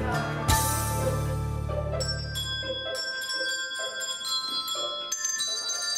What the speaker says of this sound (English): the Liberty bells are ringing.